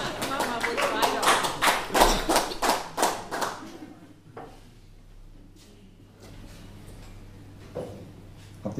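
Audience clapping at a cabaret stage show, a burst of several seconds of fairly close applause that fades out, followed by quieter room noise and occasional taps.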